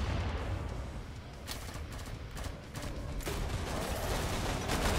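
In the zombie shooter Killing Floor 2, a machine gun rattles in quick bursts amid layered gunfire and rumbling game noise, with the firing growing denser and louder toward the end.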